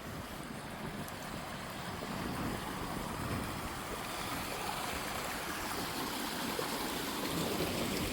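Water flows through a town's water channel in a steady, even rushing wash, moderately close and continuous, with no voices.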